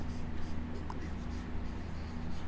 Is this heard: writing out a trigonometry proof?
yes